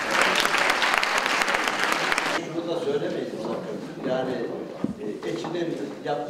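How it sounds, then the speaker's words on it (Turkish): An audience in a hall applauds after a speech, a dense burst of clapping for about two seconds that cuts off sharply, followed by murmuring voices and people talking nearby. "Ahmet Baysal konuşmasıyla salondan alkış aldı"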